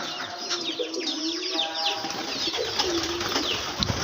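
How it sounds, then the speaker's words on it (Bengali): Pigeons coo at a small pigeon farm in low, rolling calls, mixed with chirps and some wing flutter, steady and fairly near throughout. "কবুতরের খামার।"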